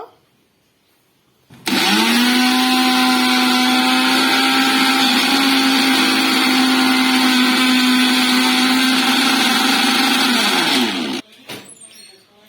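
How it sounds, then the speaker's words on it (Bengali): A mixer grinder grinding biscuits and sugar whirs loudly and steadily for about ten seconds, starting and stopping abruptly, with quiet moments before and after. "আর একবার মিক্সারে দেব।"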